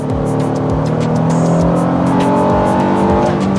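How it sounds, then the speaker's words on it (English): A Honda Passport Trailsport's V6 engine accelerates with a steady, loud drone from inside the cabin, its pitch rising gradually under constant road noise. "But this simple workhorse of a V6 gets the job done. When accelerating, there's no shortage of power."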